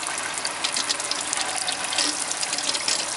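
A motorhome tap running during winterizing as pink antifreeze is pushed through the plumbing, a steady, close hiss of water from the faucet with slight spluttering variation and no talk.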